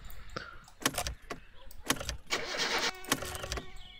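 In the My Summer Car game, a tuned car's starter cranks in a few short, uneven bursts with clattering and jangling keys. Nearby and fairly faint, it does not settle into a running idle.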